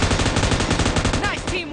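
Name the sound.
gunfire in video game PUBG Mobile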